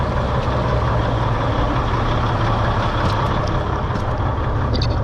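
Cummins N14 diesel truck engine with a million miles on it, idling smoothly and steadily up close, a constant low rumble with no variation or other sounds.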